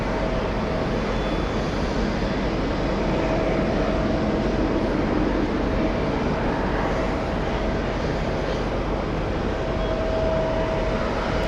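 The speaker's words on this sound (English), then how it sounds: "Looks like we also have a CRJ coming in." A CRJ regional jet approaches to land at JFK airport, its engines a steady, broad distant roar with a faint whine, holding level throughout without talk.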